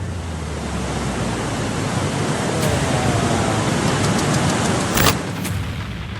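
Rushing floodwater in Kullu during monsoon flooding, a loud, continuous broadband roar of fast-flowing water with a brief louder surge near the end and no voices.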